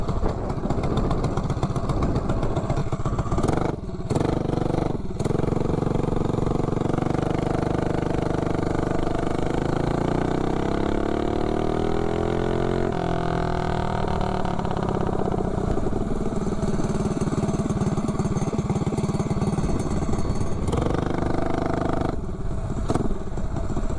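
A mini bike fitted with a ram air intake accelerates from 0 to 30, its small engine droning close and loud before the pitch rises steadily through the run and settles again.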